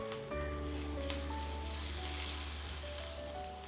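Pav bread, slit through the middle and topped with a little oil, chilli powder and coriander, toasts on a hot pan with a steady close sizzle, and a low electrical hum runs underneath.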